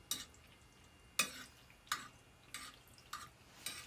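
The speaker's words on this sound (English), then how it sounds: "Make sure to stir it up." Meat being stirred into a dish in a cooking pot, heard as a handful of soft scraping strokes spaced roughly every half second to second, fairly faint with no voices.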